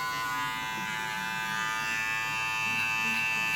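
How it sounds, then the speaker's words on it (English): Electric hair clippers run with a steady, continuous buzz at close range, used for a grade 1 fade with long layers on a back-to-school haircut, holding an even level throughout with no speech. "now I'm going to open that clipper up"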